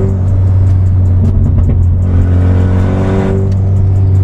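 A VW Scirocco R with an 800hp all-wheel-drive engine drives along, its engine droning loud and steady with a surge of revving partway through, heard close from inside the car without talk.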